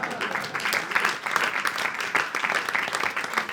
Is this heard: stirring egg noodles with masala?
no